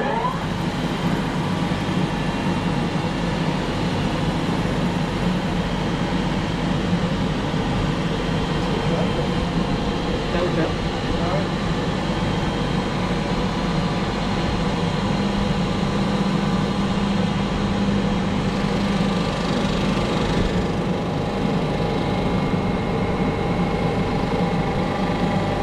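A machine resurfacing the engine block of a Renault 5 Alpine Turbo runs in a workshop, giving a steady, loud mechanical hum that holds evenly for the whole stretch.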